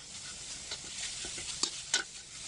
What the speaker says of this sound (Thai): ใส่เนื้อไปผัดกับพริกแกงค่ะ